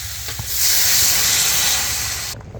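Water poured into a pan of fried potatoes and green chilies bursts into a loud, steady steamy sizzle that holds for about two seconds before cutting off.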